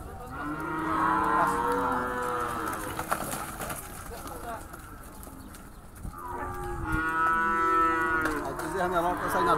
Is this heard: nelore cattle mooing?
yes